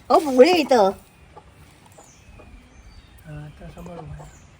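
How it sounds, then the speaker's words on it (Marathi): A brooding hen sitting on a nest of eggs makes a loud, throaty call at first, then softer low clucks follow after a pause, heard close with a voice mixed in. "पप्पांनी आता कोंबडीला रवणीवर बसवलंय"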